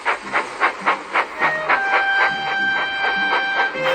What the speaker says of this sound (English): The next day, Thomas puffed to the coach yard.